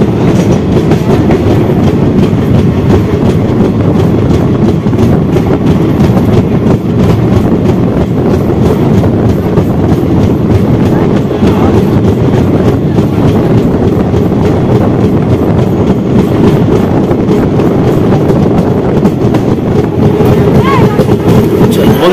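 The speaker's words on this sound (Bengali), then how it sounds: "আমাদের নেতাজি এক্সপ্রেস 3 ঘন্টা 5 মিনিট লেট, আর এটা ফতেপুর স্টেশন ছেড়ে যাচ্ছে।" The Netaji Express (12312 Kalka–Howrah), running late, pulls out of Fatehpur station with a loud, steady rumble and rail clatter that continues without a break throughout.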